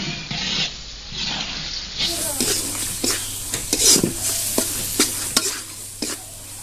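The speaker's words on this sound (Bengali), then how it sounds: "মশলাটা এবার আমি 5-6 মিনিট কষিয়ে নিব ভালো করে।" Spice masala for a chickpea curry fries and is stirred in a pan: a steady sizzle runs throughout while a spoon scrapes and knocks against the pan in repeated close strokes, with no talk.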